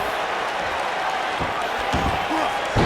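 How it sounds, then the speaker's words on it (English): Thuds from a pro wrestling match as a wrestler's head is slammed into the mat, a few sharp impacts buried under a steady crowd roar and ringside commentary. "slamming his head right into the mat there"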